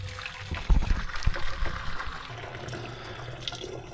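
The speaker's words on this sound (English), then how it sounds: "Just pour the boiling water in." Boiling water pours and splashes into a plastic container aboard a boat, a few hollow knocks at the start, then a steady gurgling trickle that gradually quiets.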